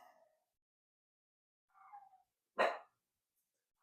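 A dog barks outside a house: a faint, drawn-out yelp followed by one loud, sharp bark, then the start of another, separated by silence.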